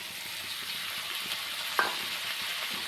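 Chopped onion, green chilli, garlic, ginger and tomato fry in a pan for a chicken liver dish, making a steady, close sizzle with a single brief metallic clink of stirring partway through.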